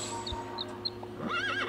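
A horse whinnies in the Super Auto Pets video game, a short wavering neigh rising near the end after a few small chirpy game effects, with no talk.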